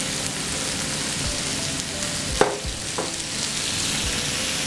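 A colourful rice and vegetable mixture sizzles steadily as it stir-fries on a hot tava, with a continuous close frying hiss and a few soft scraping stirs.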